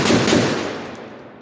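A single loud gunshot from a Palmetto 7.5 inch barrel AR-15 in 5.56 fitted with a linear compensator, a sharp blast with a long rumbling decay, heard close up.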